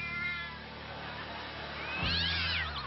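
A cat gives a single drawn-out meow, starting low and rising into a strained, wailing cry toward the end. The sound is quiet and close.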